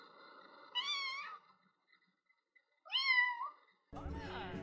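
Cats meowing in the video game The Sims 4, two clear rising-and-falling meows separated by a pause, fairly close, followed by a burst of other game sound at the end.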